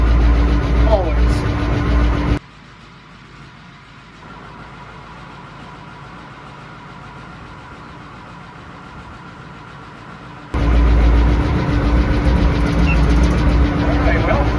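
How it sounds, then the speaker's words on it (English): A Steiger Bearcat tractor with a Caterpillar 3208 diesel engine runs with a loud, steady rumble, drops to a muffled quieter stretch, then returns loud near the end, with talking heard over it. "you got to give the old 3208 credit where it's due, because this is one start tractor"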